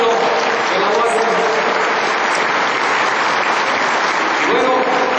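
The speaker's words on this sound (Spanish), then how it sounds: "Vamos a recibir con un fuerte aplauso" Audience applause welcoming a speaker at a lecture in an auditorium, a dense, even wash of clapping that holds steady and loud throughout.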